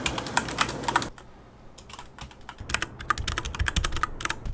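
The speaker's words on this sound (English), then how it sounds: "And now just a quick typing demonstration." Quick typing on a mechanical keyboard, close and crisp: a fast flurry of clacking keys, a brief softer lull, then dense rapid keystrokes again with no voices.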